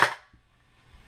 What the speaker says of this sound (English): So right now it's in 3-round bursts.